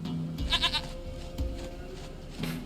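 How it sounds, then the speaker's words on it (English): A goat in The Witcher 3 bleats in a short wavering cry, then gives a couple of brief bleats, close and clear over a low game ambience. "Goat of mine, dearest, sweetest goat."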